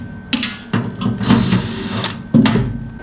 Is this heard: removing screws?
yes